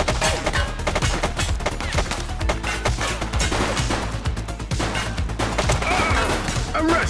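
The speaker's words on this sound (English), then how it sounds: "She's shooting!" Rapid gunfire bursts from a police-themed open-world video game, dense and loud throughout with crashing impacts mixed in, a continuous barrage of shots over a busy game soundtrack.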